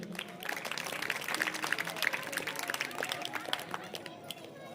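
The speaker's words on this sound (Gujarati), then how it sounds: "એમનું સ્વાગત શર્માજી તાળીઓથી વધાવી લઈએ." A crowd at a Shiv Katha religious event in Valsad applauds a guest coming to the stage, with steady, moderately loud clapping throughout and a voice talking over it.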